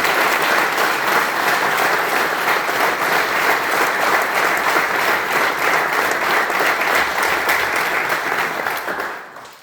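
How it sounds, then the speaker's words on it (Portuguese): A crowd at a closing ceremony gives local mayors and municipal staff a long, loud round of applause, dense steady clapping from many hands that fades away at the very end. "uma grande salva de palmas"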